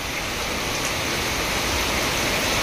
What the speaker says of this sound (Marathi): खूपच जोरात पाऊस येतोय बघा ना